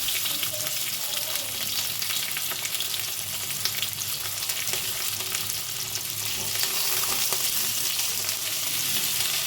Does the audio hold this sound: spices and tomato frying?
yes